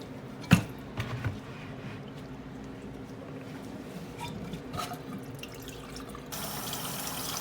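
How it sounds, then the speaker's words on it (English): Water dumped out of a container in a kitchen while making carne guisada beef stew: a brief splash followed by a low, running trickle, with a faucet-like flow toward the end. "I'm gonna dump some of this water out."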